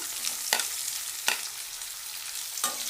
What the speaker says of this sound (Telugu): ఉల్లిపాయ ముక్కలు కూడా కొంచెం ఆయిల్లో వేగనివ్వాలి